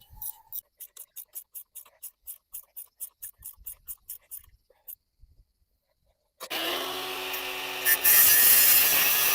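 A hand saw cuts off the excess end of a wooden pallet beam while building a chicken run, making a quick, even run of raspy strokes. It stops, and then a loud, steady rushing noise takes over.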